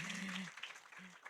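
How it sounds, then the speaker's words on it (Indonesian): A seminar audience gives a brief round of applause for the moderator at a waste-management talk, a soft, distant patter of clapping lasting about a second. "Aplaus dulu untuk beliau."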